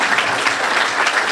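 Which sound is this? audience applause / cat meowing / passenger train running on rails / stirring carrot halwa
audience applause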